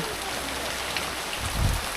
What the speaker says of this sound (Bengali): সকাল থেকে প্রচুর প্রচুর পরিমাণে বৃষ্টি হয়ে গেছে আর এখনও চলছে